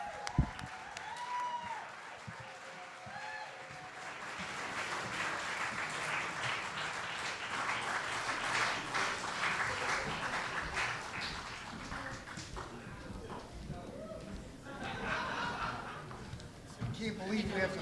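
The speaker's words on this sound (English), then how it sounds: "Please put your hands together for the Von Whelan family singers." At a celebration-of-life gathering, the audience bursts into sustained applause for the Von Whelan family singers. The clapping swells after a brief spoken introduction and carries on at full strength, with scattered chuckles and voices mixed in.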